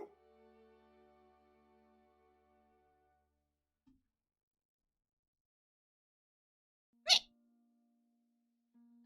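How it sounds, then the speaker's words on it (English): A single short, sharp hiccup bursts out of near silence, followed a little later by the start of another, each abrupt and fairly loud after a faint fading tone. "Oh no, I have hiccups."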